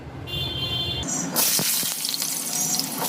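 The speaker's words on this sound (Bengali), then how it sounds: "এদিকে মিডিয়াম ফ্লেমে আমি আলুটাকে ভেজে নেব।" Small cut potato pieces frying in hot oil over a medium flame, a steady loud sizzle with a watery hiss that swells partway through and carries on alone.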